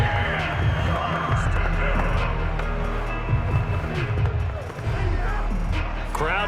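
Steady stadium crowd roar in a Madden 22 football game, Saints against 49ers, running continuously behind commentary with dense broadband noise and a brief dip near the end.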